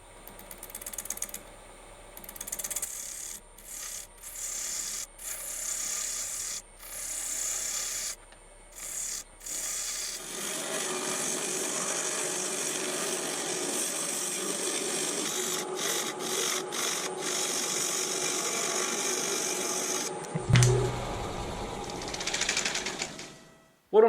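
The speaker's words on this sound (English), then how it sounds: "The waste blocks are all dry now, so now I can mount it up to the lathe." A wood lathe spinning an epoxy resin casting mounted on waste blocks, with a steady mechanical whir and gritty scraping as a tool cuts toward a cylinder shape, broken by several short pauses, moderately quiet throughout.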